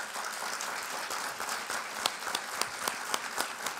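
An audience applauds at a televised political event, a brief burst of faint, distant clapping with a few sharper individual claps standing out near the end.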